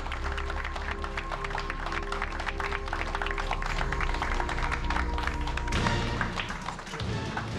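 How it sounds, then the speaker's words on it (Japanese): Scattered applause from a small audience at a mahjong tournament's close, light patter of hands under steady background tones, continuing throughout with a thud near the end. "どこからともなく拍手が湧いてくる。"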